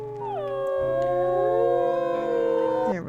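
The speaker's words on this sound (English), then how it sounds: "Let's do a nice howl when we can" A wolf in the video game WolfQuest lets out a long, loud, close howl that rises and holds a wavering tone, with other howls layered beneath it, before breaking off at the end.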